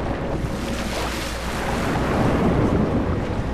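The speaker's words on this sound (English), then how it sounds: "This is just a waterfall." In Darksiders 2, a waterfall gives off a constant broad roar like rushing water and wind, loud and unbroken with no voices.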